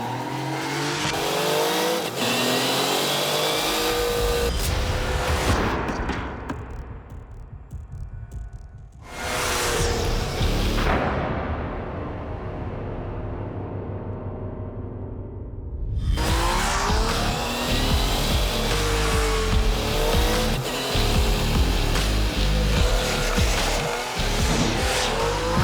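A Yamaha Niken three-wheeled motorcycle is ridden hard through corners, its engine revving loudly and rising and falling with acceleration, easing off briefly mid-way before roaring back up.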